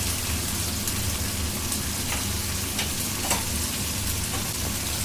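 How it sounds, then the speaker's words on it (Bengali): A spice paste of green chili, tomato, turmeric and cumin fries in a pan with a dense, continuous crackling sizzle and occasional louder pops and stirring scrapes up close. "ভালোভাবে আমি মশলাটা কষাই নিব"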